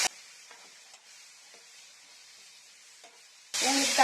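Ground tomato paste goes into a pan of brinjal gravy frying for a biryani side dish, bringing a sudden loud burst of sizzling near the end after a quiet low hiss with a few soft stirring taps.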